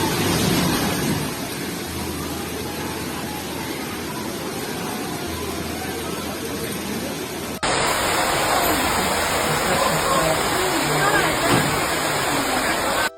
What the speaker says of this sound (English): Just watching the sheer force of this current is terrifying.